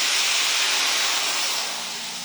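Water poured into a hot cooking pan for deglazing gives a loud, steady hiss and sizzle that fades slightly toward the end, with no talk over it.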